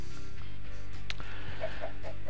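Chickens in a farming video game clucking in a few short, moderately loud calls over a steady low game background hum.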